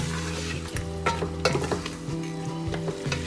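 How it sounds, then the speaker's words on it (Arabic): Lamb meat for Saudi kabsa being stirred in a pot, with a steady sizzle from the frying meat and scraping, clinking strokes of a spoon against the pot, close and fairly quiet. "هلا بدنا نقلبهم."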